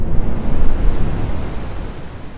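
Synthesized ocean waves made from filtered white noise in the Vital soft synth, heard as a loud, broad rushing wash that swells early and then slowly recedes, alone with no voices.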